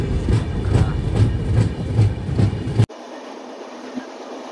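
A train on the Dhone to Visakhapatnam route rumbles along at speeds up to about 120 km/h, with rhythmic clickety-clack of wheels over rail joints, loud and close, then abruptly drops to a quieter hum.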